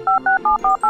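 Phone keypad tones sound while a message is sent, five short, evenly spaced electronic beeps heard close and clear in quick succession with no talking over them.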